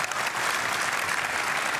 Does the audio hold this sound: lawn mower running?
no